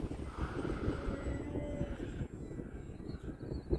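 An E-flite Extra 300 3D RC airplane with a 1.3 m wingspan, flying at about quarter throttle, gives a steady, moderately loud propeller drone with a rushing, windy wash. The sound stays fairly even for a few seconds, with no talking.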